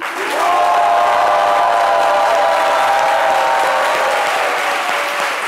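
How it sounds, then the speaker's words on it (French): A studio audience claps steadily, loud and sustained for several seconds, with a few cheers and a sustained musical tone running under the dense applause. "Alors, on continue avec les applaudissements."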